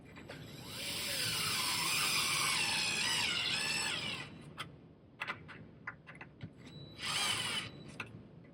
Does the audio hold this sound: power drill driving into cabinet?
yes